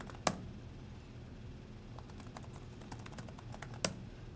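A new password being typed on a computer keyboard: faint, soft key taps scattered across a few seconds, with two sharper clicks standing out, no voices.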